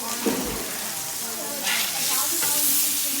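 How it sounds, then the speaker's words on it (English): A steak sizzles loudly and continuously on a Blackstone griddle, with a bright, steady hiss swelling slightly toward the end and a couple of faint clinks of the cook's tools. "And you can see that the steak's cooking very well."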